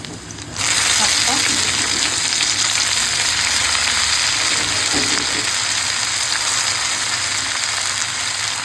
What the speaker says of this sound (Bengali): এখন পেঁয়াজ রসুন আর শুকনো লঙ্কাটা এরকম হালকা ভাজা হয়ে গেছে